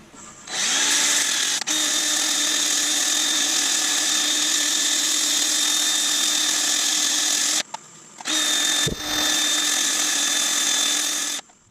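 A spinning ash and resin bowl has its bottom sanded with a power tool, a loud, steady high whine that runs continuously, cuts out briefly twice and then resumes, close up with no talking.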